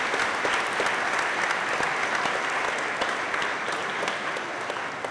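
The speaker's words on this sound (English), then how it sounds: "Give them now a round of applause." A church congregation at the Easter Vigil Mass claps for newly baptized members, an even, sustained wash of many hands from a large crowd in a resonant space, steady throughout with no talking.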